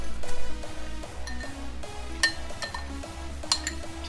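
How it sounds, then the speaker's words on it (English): A spoon clinks against a metal pot or bowl while stirring a pinch of saffron into warm milk, a few close, bright metallic taps over a steady low hum, with no voices. "Just stir it a little bit"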